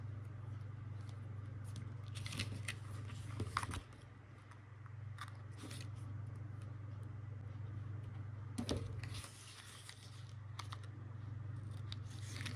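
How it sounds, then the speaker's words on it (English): Scissors snipping paper in a few short crisp bursts over a steady low hum, close by, with quiet rustling between cuts. "Get my scissors."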